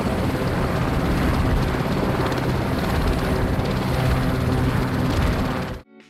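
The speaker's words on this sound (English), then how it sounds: "That was the sound of a Westland Sea King HAR3." A Westland Sea King HAR3 helicopter gives a loud, continuous rotor and engine roar that holds steady, then drops away abruptly just before the end.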